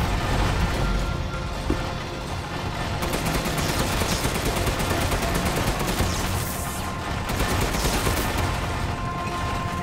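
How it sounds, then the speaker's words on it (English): Dense gunfire in Resident Evil Village, a continuous loud barrage of rapid shots and mechanical clatter with rhythmic bursts through the middle, no talking heard. "Keep shooting!"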